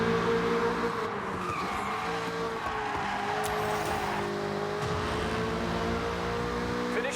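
Racing car engines roar steadily in the video game Forza Horizon 6, a loud continuous drone with tire squeal and skidding layered over it, holding constant without pause.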